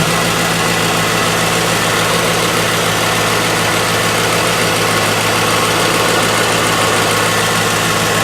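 A Corvette engine idles steadily with the air conditioning running after a new accessory belt and idler pulley, a loud, continuous even hum heard up close with no squeal.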